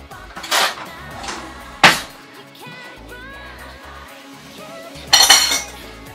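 A spoon clinks and taps against a glass while chocolate mousse is spooned in for a chocolate dessert, giving a few sharp, close clinks separated by quieter scraping moments.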